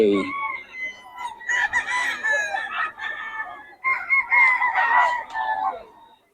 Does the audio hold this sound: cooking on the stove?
no